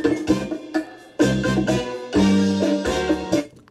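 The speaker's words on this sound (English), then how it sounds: "let me start the music sample" A music sample plays through an op amp audio amplifier as plucked tonal notes and chords in short phrases with gaps between them. The sound is clear and moderately loud, and no one talks.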